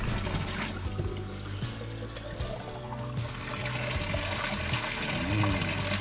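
Cold water gushing and pouring steadily from a hand pump at a natural spring outdoors, a continuous splashing flow that stays fairly even throughout.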